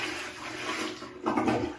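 A household toilet flushes with a rushing, gurgling surge of water that swells near the end, close and fairly loud with no talking.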